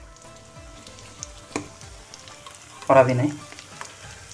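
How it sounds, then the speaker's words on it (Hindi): Potato tikki fry gently in a pan with a quiet sizzle. A spatula clatters briefly as a patty is flipped, with a louder burst partway through, and a voice speaks a few words over the cooking. "एक तरफ से हमारे जो टिक्की है हल्के से फ्राई हो गए और इन्हें धीरे धीरे करके उलट पलट करें"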